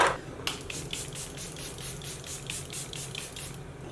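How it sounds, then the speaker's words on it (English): Charlotte Tilbury makeup setting spray hisses in a quick run of soft, close pumps, about five or six short bursts in steady rhythm, faint and with no talking. "let's lock it in with some Charlotte Tilbury setting spray"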